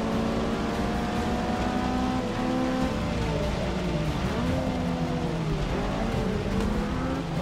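A race car in Forza 6 revs and shifts gears, engine pitch sweeping up and dropping repeatedly in a loud, close, continuous drone with no talking.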